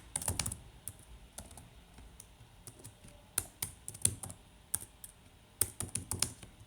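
Computer keyboard typing in product details for a shirt listing, clusters of quick close keystrokes with short pauses between bursts, no voices.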